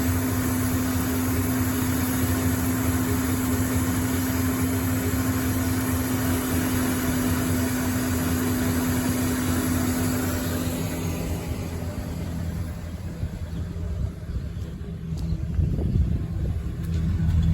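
A 1974 Mercury Marquis Brougham hardtop engine idles steadily after starting, a constant low hum with a strong steady tone, running alone for most of the stretch before fading slightly near the end.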